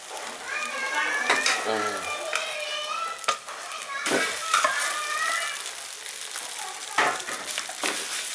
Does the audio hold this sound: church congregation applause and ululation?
no